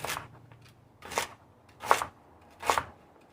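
A knife slices through celery stalks on a cutting board in four crisp, separate cuts spaced roughly evenly, close and fairly quiet.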